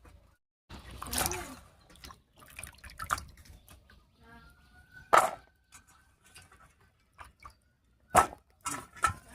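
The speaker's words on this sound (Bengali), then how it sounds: "আলুটা কাটা হয়ে গেছে, এবারে পরিষ্কার করে ধুয়ে নিচ্ছি।" Cut potatoes are rinsed in water, with sparse splashes, drips and sloshing knocks separated by quiet gaps, a few louder sharp splashes near the end.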